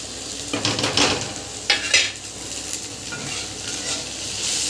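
Vegetables fry in a pan with salt, chilli powder, turmeric and coriander powder, giving a strong, steady sizzle while a spatula scrapes and stirs in a few brief bursts; no voices.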